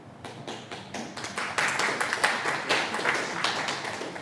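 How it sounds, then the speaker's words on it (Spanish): Audience applause welcomes a lecturer at a university lecture session, scattered claps building into steady, fairly close clapping from a modest crowd. "El aplauso previo siempre compromete una mejor exposición"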